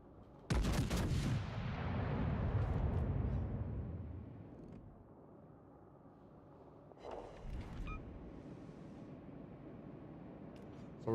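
The destroyer Jervis fires its guns in a naval video game: a loud close boom that rumbles and decays over several seconds, followed by a second, softer blast.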